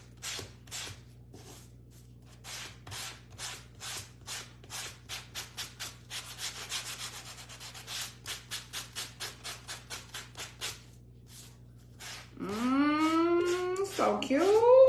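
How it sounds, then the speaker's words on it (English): A piece of a DIY surfboard wagon is sanded by hand, rhythmic close rubbing strokes repeating steadily, with a rising voice-like whine near the end. "Now let's sand this one."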